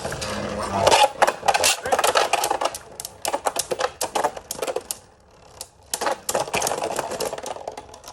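Beyblade tops spinning and clashing inside a stadium: dense rapid clicking and rattling collisions, a brief lull, then more clatter, close and busy.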